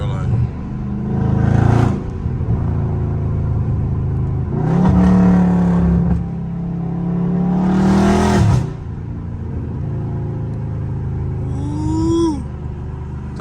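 Catless Dodge Charger Scat Pack exhaust rumbling and revving in loud bursts while driving, with a few pops, heard from inside the car.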